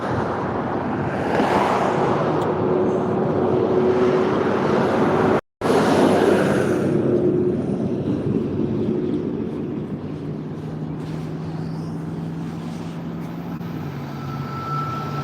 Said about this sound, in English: I hear that second train coming down the tracks.